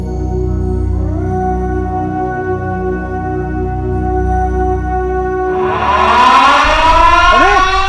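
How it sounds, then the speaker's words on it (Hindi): A loud siren wails steadily with a deep droning tone, and another rising and falling whine cuts in near the end, all close and sustained. "सायरन बज चुका है"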